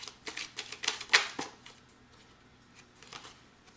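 Tarot cards are shuffled and flicked quickly, a burst of crisp papery snaps and riffles up close, then a few softer taps as a card is drawn from the deck.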